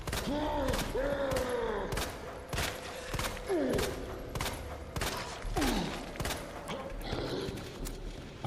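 Leon's handgun firing in the Resident Evil 2 video game, a series of sharp shots spaced roughly every half second to second, close and punchy over creaking, shuffling game sounds with a few whooshing creature cries.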